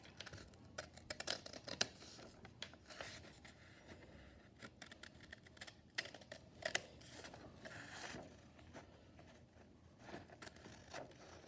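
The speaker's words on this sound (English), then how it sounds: "take your scissors. And then what you're gonna do is just cut it out very carefully" Scissors cut out a homemade paper Pokémon card: quiet, close, irregular snips and scraping of blades on paper, with no talking.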